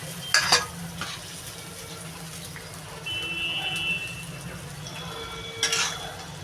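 Fish for a thankuni-leaf curry sizzles steadily in a frying pan, a constant low frying hiss broken by a few brief clinks of utensils against the pan, with no talking.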